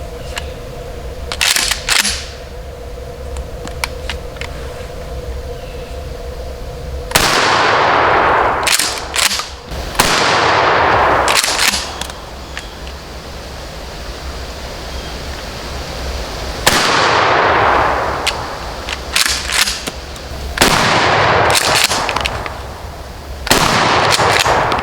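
A Mossberg 500 pump shotgun firing Remington double-aught buckshot outdoors, about five loud, sharp blasts spaced several seconds apart, each with a ringing decay, and pump-action clacks between shots.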